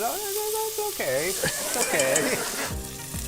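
Peppers and garlic sizzle and crackle in a hot pan while a person talks briefly over it.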